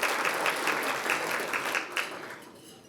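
Audience applause at a chamber of commerce annual meeting, a full burst of clapping from a crowd that fades away toward the end.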